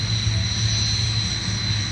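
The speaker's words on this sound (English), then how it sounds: "The Red Arrows taxiing back in here." Red Arrows jets taxi at an air show, producing a steady, loud engine whine and low rumble that holds throughout.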